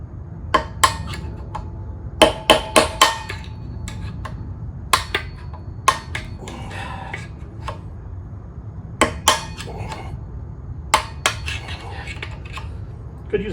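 Motorcycle wheel bearings on an NC700X are hammered out of the hub, with sharp metallic strikes arriving in irregular bursts of two or three, close and ringing against a quiet workshop background.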